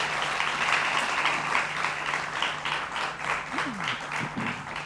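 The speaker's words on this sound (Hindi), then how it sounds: "जोरदार तालियों से इनका स्वागत कीजिए।" A crowd applauding steadily, dense clapping that swells and holds for several seconds, with a faint voice underneath near the end.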